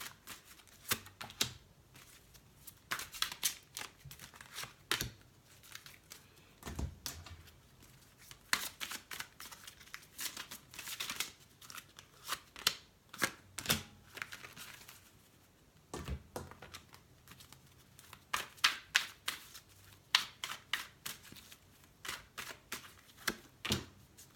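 Tarot cards shuffled by hand in repeated quick riffling bursts with short pauses, close and crisp, with no talking over them.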